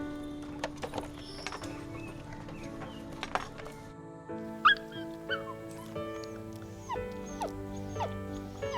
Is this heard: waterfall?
no